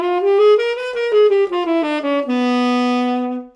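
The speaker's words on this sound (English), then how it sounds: "Okay, so we use the whole half diminished scale." A single melodic instrument plays a whole-half diminished scale up and then back down, each note clearly tongued, ending on one long sustained low note.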